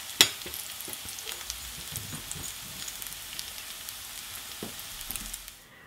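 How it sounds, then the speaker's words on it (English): Vegetable fritters sizzle and crackle steadily in hot oil, a continuous close frying hiss with small pops throughout, no voices. "I'm just going to fry these until they're golden brown on both sides"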